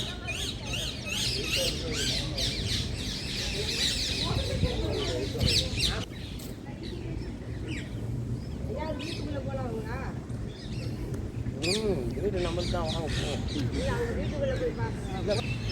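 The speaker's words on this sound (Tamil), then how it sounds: "இங்கே நிறைய பறவைகள் இருக்கின்றன" Many birds call and squawk in the open grounds of Sabarmati Gandhi Ashram, where visitors scatter grain for them. Chirps, squawks and chatter overlap continuously at close to middle distance, with faint voices mixed in.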